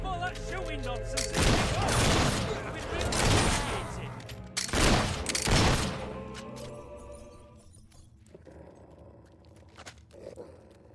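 Gunfire and loud roaring bursts in the video game Fable 3, several broad blasts in quick succession over the first six seconds, then quieter background game noise.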